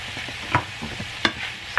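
Meat frying in a pan for a pasta dish, stirred with a utensil, with a steady soft sizzle and a couple of sharp scraping clinks against the pan.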